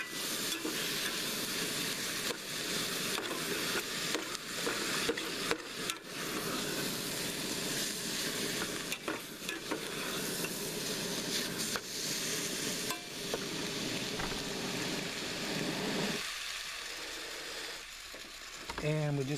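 Ground beef and onions sizzle steadily in a pan on a camper van stove while being stirred, with scraping and hissing throughout; the sizzle dips briefly near the end.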